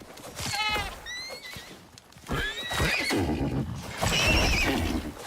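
A horse in the video game Icarus neighs loudly, with three drawn-out whinnies in a row separated by brief pauses, close and clear.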